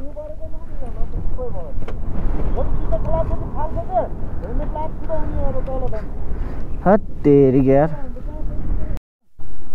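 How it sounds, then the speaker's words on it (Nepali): Strong gusting wind at Jomsom in Mustang buffets the microphone in a loud, continuous roar, while people talk and shout over it nearby. "डेन्जर हावा लगाइदिएको भर्खरै जोमसङको हावा यो चाहिँ"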